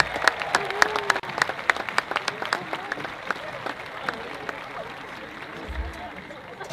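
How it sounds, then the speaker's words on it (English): A crowd applauds the Parkland High School Marching Band and cheerleaders at a school district convocation, producing sustained, dense clapping with some sharper individual claps standing out close by. "how about a round of applause for the Parkland High School Marching Band and the Parkland High School"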